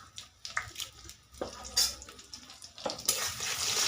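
Whole five-spice seeds, two dried red chillies, bay leaf and chopped onion fry in hot oil for a tempering, giving a soft crackling sizzle with a few clinks of a spoon against the pan.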